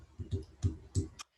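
Someone types on a keyboard, four or five evenly spaced bursts of clicking with soft thumps, close and fairly loud, with no talking.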